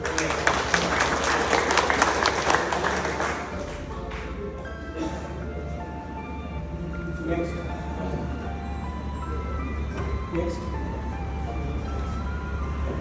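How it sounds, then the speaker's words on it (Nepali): A loud burst of audience applause at a plumbing pipe dealers' meet fills the first few seconds, then fades into a steady hall hum and faint background sound. "एकचोटि ठुलो तालीका साथ स्वागत गरिदिनुहोस्"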